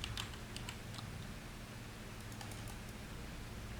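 Quiet typing on a computer keyboard during Tomb Raider play, with scattered clicks of individual keys in irregular bursts over a low steady hum, and no talk.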